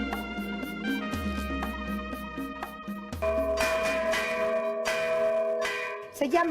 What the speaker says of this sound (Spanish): tocan las campanas. Y tocan, y tocan, y tocan, y tocan, y tocan